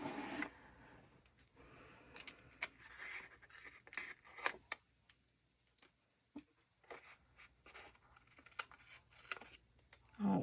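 Paper being cut for a craft spread with scissors and a rotary cutter on a cutting mat: scattered short snips, clicks and scrapes at close range in an otherwise quiet room, irregular in rhythm.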